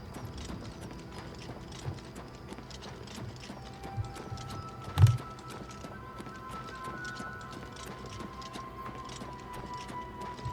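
Steady clip-clop of horse hooves at a walking pace in The Elder Scrolls IV: Oblivion Remastered, continuous and even, with a faint mechanical ticking and a single sharp thump midway.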